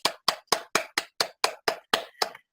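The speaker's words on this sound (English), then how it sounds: "please give a round of applause to Therese." Applause during an online Toastmasters meeting, heard as about ten crisp, evenly spaced claps from a single close clapper, each sharp and separate with silence between.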